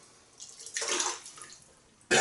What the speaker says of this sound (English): we're going to start with a damp brush. Just flicked out most of the water.